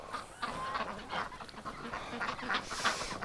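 A flock of ducks on a winter outing quacks and honks in quick overlapping bursts, fairly faint and nearby with outdoor background noise.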